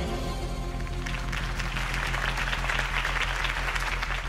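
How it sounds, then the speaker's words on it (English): Crowd applause swells through a campaign rally for Harvey Dent in the Batman Telltale game, a dense, sustained roar of clapping that builds after the first second and stays loud to the end. "If only Mr. Wayne, my campaign's largest backer, could have heard that applause"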